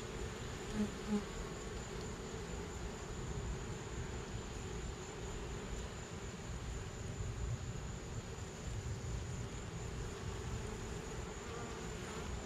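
Honeybees swarming inside a cable box during a removal, a dense continuous buzz that stays fairly loud and steady throughout, with no talking.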